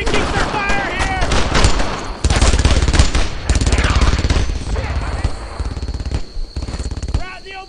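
Enemy gunfire in the WWII shooter Brothers in Arms: Earned in Blood: sustained bursts of rifle and machine-gun fire rattle nearly the whole stretch, loud and close, with a shouting voice over the shooting.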